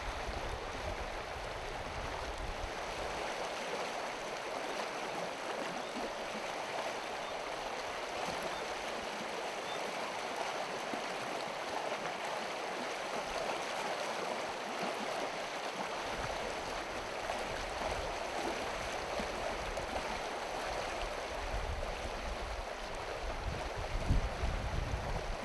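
River water swirling and eddying behind a boulder in a New Zealand fly-fishing stream, a steady close rushing wash that runs the whole time with no voices.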